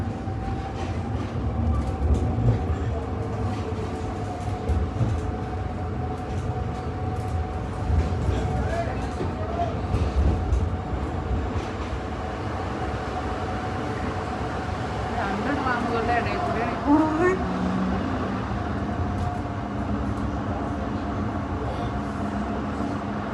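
Steady rumble and hum inside a moving double-decker train in Switzerland, with faint rattling and a brief squeal of wheels midway; people talk quietly in the background.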